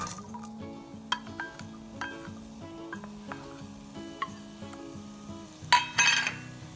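Red chilies and garlic frying in hot oil with cumin for peanut chutney, a soft continuous sizzle under repeated clinks and scrapes of a spoon against the pan, with a brief louder burst near the end.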